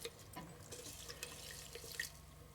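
Water running from a tap into a container of seeds, a steady close splashing stream with faint drips and no talk.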